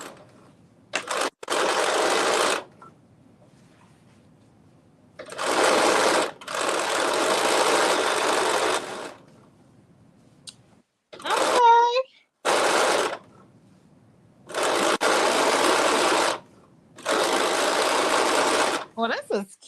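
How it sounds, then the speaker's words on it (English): A sewing machine stitching a skirt runs in several bursts of a few seconds each with pauses between, close and loud, with a brief high squeak in one gap. "I am stitching this up."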